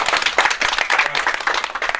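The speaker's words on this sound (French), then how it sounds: "je vous invite à faire une ovation pour les formateurs et les formatrices" Audience applause as an ovation for the trainers at a departmental arts and culture address, a dense patter of clapping filling the whole stretch, close and steady with no voices over it.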